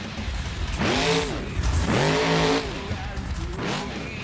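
A monster truck in the BeamNG.drive video game jumps and revs hard during a freestyle run, with two loud rising-and-falling engine roars followed by a shorter third rev.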